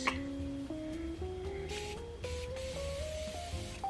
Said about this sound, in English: I'm like spraying my beauty blender with setting spray